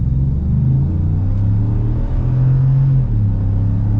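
Ford F-150 Black Ops lifted pickup with a 5.0 V8 pulls away, its exhaust rumbling loud and deep with two rising engine surges, steady and close throughout.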